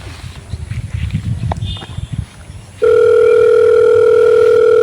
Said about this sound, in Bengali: দাঁড়া বাপকে ফোন করি